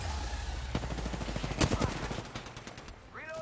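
Dense, rapid gunfire in the Apex Legends video game, a loud automatic burst crackling through the middle with sharper shots around it, over a busy battle mix and a brief rising whoosh near the end.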